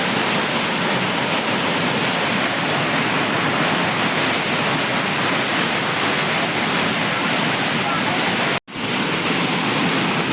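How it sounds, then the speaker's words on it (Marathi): A river in full flow rushes steadily as an unbroken broadband roar, briefly cutting out near the end, with no voices over it. "पाणी दाखवतो मित्रांनो नदीला किती आहे"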